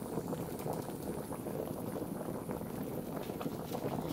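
A pot of water with potatoes at a steady rolling boil, a continuous bubbling and gurgling wash heard close up, with no talk.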